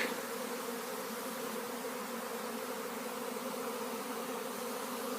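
A swarm of honey bees fills the air with a dense, steady buzzing hum, loud and constant throughout with no speech.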